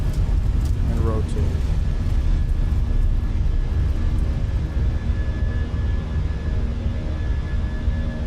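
Engines of a Fenix A320 jet roar at full takeoff thrust during rotation in Microsoft Flight Simulator, a loud steady rumble with a faint high whine. Pilot callouts are spoken over it.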